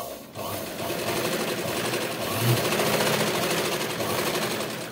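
A sewing machine runs continuously, stitching a double seam on a princess-cut blouse, a loud close mechanical whir with rapid rattling that starts after a brief pause and holds steady.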